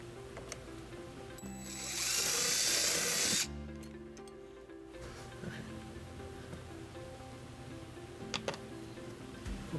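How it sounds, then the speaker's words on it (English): A short burst of high-pitched power drilling into a 2015 Mazda CX-9 while installing trailer wiring, about two seconds long, rising over steady background hum, then stopping. "and then we're going to drill our first hole."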